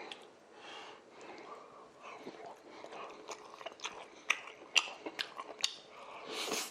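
Someone close by chews braised beef short ribs (galbi-jjim), a run of wet bites and squelchy chewing with a few sharper crunchy clicks that grow more frequent toward the end, with no talking.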